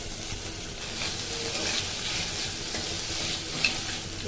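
Tomatoes frying in a pan with ginger paste masala for Bengali rui fish curry in yogurt, a soft, steady sizzle with light stirring, close and fairly quiet.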